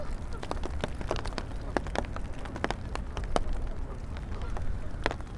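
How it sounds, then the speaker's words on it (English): Geese honking repeatedly in Central Park, New York City, on a rainy winter day, brief overlapping calls from a gaggle nearby over steady rain hiss and low city rumble. "Look at all the geese."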